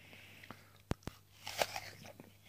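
Someone bites into a crisp, small red Red Falstaff apple, giving two sharp close crunches followed by a louder burst of chewing, all quiet and without talking.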